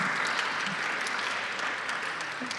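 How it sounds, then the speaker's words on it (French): Steady, dense applause rises from an audience thanking speakers at a round-table talk on tourism data, sustained and fairly close throughout with no voices over it. "On les applaudit"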